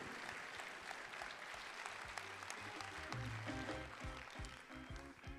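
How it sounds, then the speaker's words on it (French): Audience applause at the Moroccan final of the Ma thèse en 180s contest, welcoming a guest onstage: steady, dense clapping filling the room, with some louder patches toward the middle and a faint voice underneath. "Je vous demande d'applaudir Madame Raja Sharqawi Al-Morsli."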